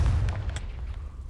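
A single Confringo explosion spell from Hogwarts Legacy lands as a deep, close boom that rolls and fades quickly, with a faint crackle near its start.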